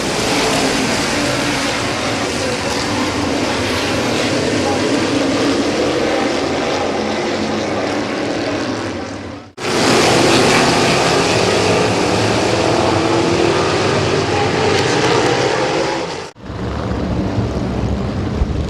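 Race cars roaring around the track at Midvale Speedway during a fall classic restart, a loud, sustained engine drone that rises and falls as the pack passes, broken by two brief cuts.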